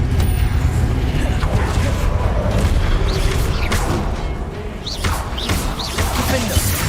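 A Confringo blasting curse explodes in the Hogwarts Legacy video game amid a dense, continuous roar of combat booms, rumbling impacts and magical effects, loud and sustained throughout.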